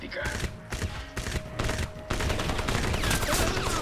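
Machine gun fire in Crysis: loud, close bursts of rapid shots, broken by short gaps early on, then a sustained, dense stream of fire.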